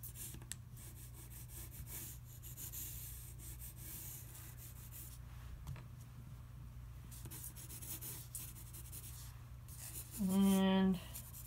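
An eraser rubs out a drawing mark on paper with a soft, steady, close scrubbing that stays faint throughout, followed by a short louder sound near the end.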